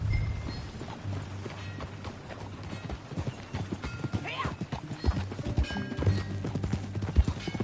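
Horse hooves clip-clop at a steady walking pace in Red Dead Redemption 2, with a brief whinny partway through and a busy game-like ambience behind.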